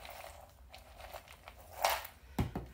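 Crunchy air-fried ranch chickpeas are bitten and chewed close up, giving a soft crackling texture and two sharp crunches near the end, with no talking.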